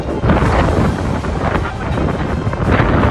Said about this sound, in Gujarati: પાછો પવન આવે છે ને એમાં તેને થોડો ખોચો થઈ જાય છે કારણ કે તંબુ ઉડી જાય છે